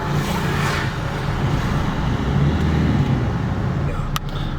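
Fiat Punto 1.3 Multijet diesel on a test drive after clutch and shock absorber replacement, a steady low engine and road drone heard from inside the car, with a faint click near the end.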